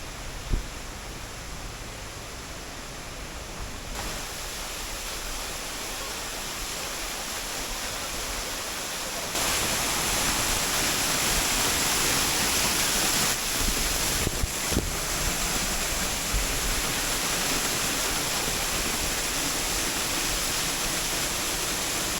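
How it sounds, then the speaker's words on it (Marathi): Two waterfalls at Malshej Ghat pour continuously, giving a steady broadband roar that grows louder partway through, with no talk. "आता आपण या दोन अशा सुंदर धबधब्यापाशी पोचलेलो आहोत"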